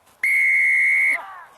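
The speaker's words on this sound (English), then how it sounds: "whistle stops play" A referee's whistle at a college rugby match, one loud, steady blast of about a second, with faint crowd noise around it.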